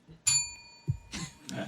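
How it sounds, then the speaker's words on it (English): A sad little bell sound effect, a single bright ding that rings out briefly and fades, followed by faint murmuring and soft noises. "I genuinely like the sad little bell sound"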